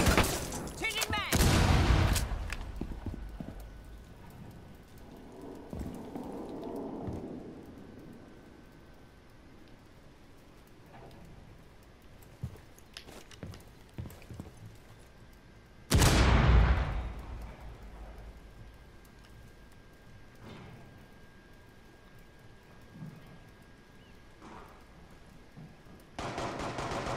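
Bursts of gunfire in Rainbow Six Siege, a few loud cracks near the start and another sharp blast midway, with scattered quieter shots and clatter between them over a low background.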